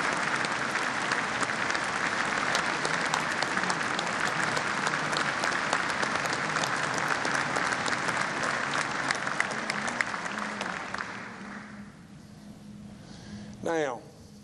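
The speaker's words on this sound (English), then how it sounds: "I'd like you to give a great big round of applause for our chief of staff" Sustained applause from a large crowd at a state address, dense and even for about ten seconds before tapering off, with a voice resuming briefly at the end.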